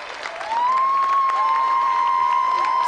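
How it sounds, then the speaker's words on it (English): A studio audience on a television game show applauds the athletes Carl Lewis, Colin Jackson and Linford Christie, a steady roar of clapping that swells after a brief quieter start, with a sustained tone running through it. "let's have another round of applause for Carl Lewis, Colin Jackson, Linford Christie"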